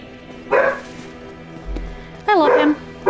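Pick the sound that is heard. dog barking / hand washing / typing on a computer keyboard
dog barking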